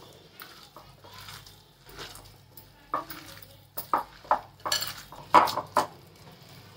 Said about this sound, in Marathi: आता हे हातानेच मिक्स करून घेते मी सर्व